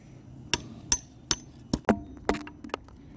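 A hammer strikes a control arm bushing on a Lexus SC300/400, landing about seven sharp, close metallic blows at an uneven pace, each ringing briefly before the next.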